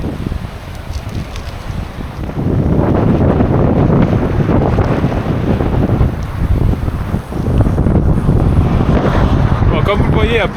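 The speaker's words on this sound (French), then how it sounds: "comme vous le voyez, il y a beaucoup de vent" Strong wind buffeting a microphone while cycling outdoors on a road ride, a loud, rough, continuous roar that swells after the first couple of seconds, with faint speech underneath.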